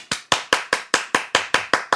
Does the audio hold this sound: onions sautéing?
no